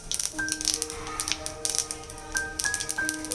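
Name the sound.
whole mustard seeds and dried chillies crackling in hot oil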